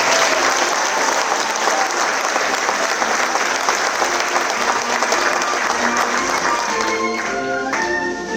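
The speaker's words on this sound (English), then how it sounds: "Can you give Kellswater a round of applause?" Loud, steady applause from an audience at a charity concert by flute bands in County Antrim, continuous for about eight seconds and fading slightly near the end.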